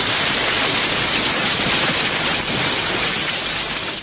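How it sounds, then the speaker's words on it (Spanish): A recorded radio signal attributed to comet Hale-Bopp, a steady dense hiss of broadband static with a faint crackling texture, loud and unbroken throughout. "el sonido que dejó el paso del cometa Hale-Bopp"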